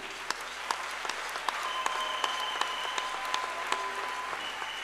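A church congregation applauds in a dense, steady wash of clapping with occasional sharper individual claps standing out, continuous and fairly loud throughout.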